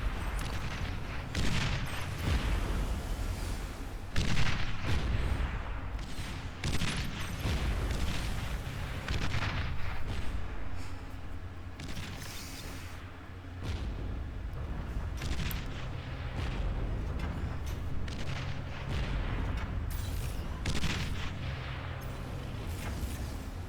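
Artillery fire in the Beyond All Reason strategy game, lobbed blind onto a base: a continuous barrage of booms and rumbling impacts, fairly loud, with overlapping blasts and no talk.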